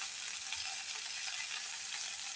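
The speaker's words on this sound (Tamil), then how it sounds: "கட் பண்ணி வச்சுருக்க வெங்காயத்தை நம்ம போட்டுக்கலாம். வெங்காயம் வதங்கட்டும்." Chopped onions sauté in a pan of hot oil after the tempering for a chutney served with idli and dosa: a soft, even, continuous hiss, fairly faint and steady, with no voices.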